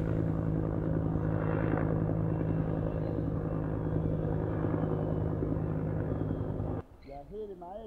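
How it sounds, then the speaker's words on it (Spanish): A helicopter passes with a steady, loud rotor and engine drone that fills most of the clip, then cuts off abruptly near the end, where a voice begins talking. "Así pasan los helicópteros."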